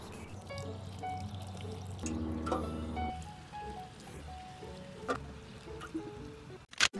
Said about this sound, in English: I am going to empty this rain barrel in the greenhouse